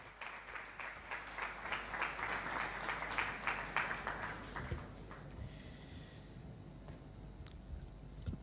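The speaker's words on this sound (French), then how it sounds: "Sous vos applaudissements, s'il vous plaît." A conference audience in Kinshasa applauds a lawyer invited to speak. The fairly faint, even clapping lasts about five seconds and then fades into quiet room noise.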